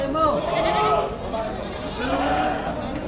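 Goats bleating nearby at a livestock auction in Padre Garcia, Batangas, a few wavering cries rising over a murmur of voices and general outdoor bustle.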